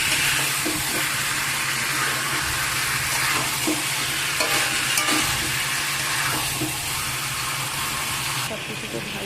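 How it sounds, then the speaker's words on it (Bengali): Marinated chicken pieces and spices are stirred together in a hot pan, giving a steady, loud frying sizzle with scraping stir strokes that recur throughout, and no voices are heard. "চিকেন আর মশলা সব কিছু একসাথে ভালো করে মিক্স করে নিচ্ছি"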